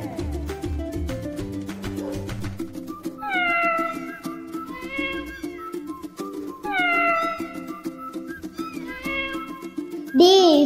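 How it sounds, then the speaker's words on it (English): Several short cat meows sound in sequence, clear and close, alternating with sung children's alphabet-song melody and voices, plus a final louder meow at the end. "C for cat. C for cat."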